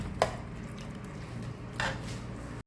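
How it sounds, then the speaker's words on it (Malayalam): A spoon stirs mushroom masala curry in a pot, giving a soft thick squish with a few sharp clinks against the metal rim, spaced apart over a quiet background. "എന്നിട്ട് ഇളക്കാം"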